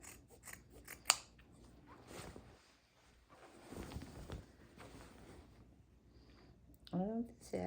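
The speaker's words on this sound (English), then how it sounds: "Get the corners snipped." Scissors snip the corners off towel fabric in quiet, crisp cuts, with one sharp snip standing out, while a person talks softly nearby.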